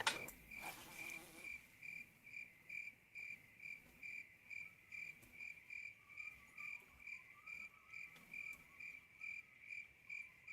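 Crickets in a fishing video game, a faint, regular pulsing chirp repeating about once a second against a steady high insect drone, with a brief clatter at the very start.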